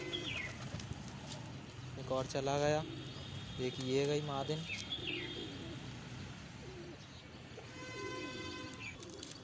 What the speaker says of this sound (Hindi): अब सारे कबूतर नीचे जा रहे हैं मिट्टी खाने के लिए